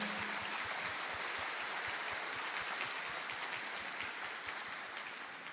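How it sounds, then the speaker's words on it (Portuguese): A church audience claps in a dense, steady round of applause that fills the whole stretch, many hands at once, tapering slightly toward the end. "Uma salva de palmas aí."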